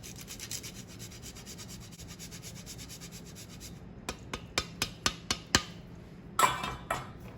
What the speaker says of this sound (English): I'm just going to grate my cheese right into the bowl